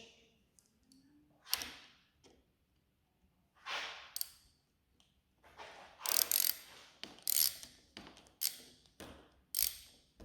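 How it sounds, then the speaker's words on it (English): A socket wrench ratchets a bolt through a Flo Motorsports lever on a 2022 Kawasaki KX112 dirt bike, giving sparse bursts of metallic clicking close by, with quiet gaps between strokes and no talking. "And grab your socket wrench."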